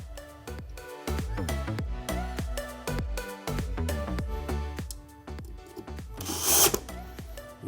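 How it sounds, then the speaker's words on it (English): A power drill drives screws while a standing desk is being assembled, with repeated short motor whirs and rising pitch sweeps, each burst stopping and restarting, close and alone, ending in a brief louder rattle. "Get your drill on."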